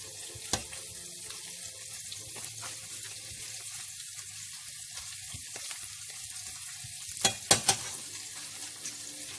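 Thawed spinach and crumbled feta are stirred in a frying pan, giving a soft, steady sizzle with occasional scrapes and a few sharper clatters near the end; no one speaks.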